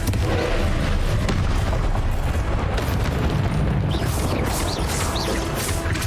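Confringo fire spell explosions from the video game Hogwarts Legacy boom loudly and continuously, layered blasts and crashes with no pause.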